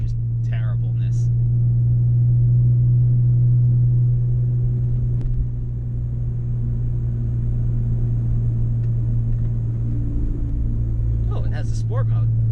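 Steady, loud exhaust drone from a 195,000-mile BMW E46 M3 with a raspy aftermarket exhaust, a constant low rumble heard from inside the car throughout, with a brief voice near the start and again at the end.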